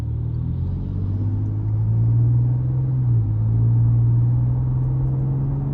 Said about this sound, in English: I love the exhaust note here.